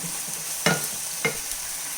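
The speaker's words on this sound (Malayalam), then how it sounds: "മുളക് പൊടി, കുരുമുളക് പൊടി, മഞ്ഞൾപ്പൊടി നമ്മളെടുത്ത് വെച്ചിരിക്കുന്നത് ഇതിലേക്കിട്ട് നല്ലോണം ഇളക്കി മിക്സ് ചെയ്യാം." Onions frying with chili, black pepper and turmeric powders in a pan, a close, steady sizzle with two sharp scraping knocks of a spoon stirring.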